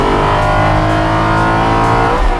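A loud Aston Martin sports car engine revs and roars continuously, deep and throaty, close by, with no talking.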